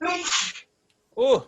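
A single sharp sneeze from someone in an online class, bursting out at once with a spoken exclamation, then a pause and a brief voiced sound after.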